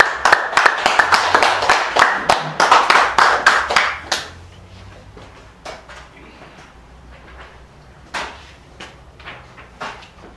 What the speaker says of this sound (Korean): 박수로 받아주십시오.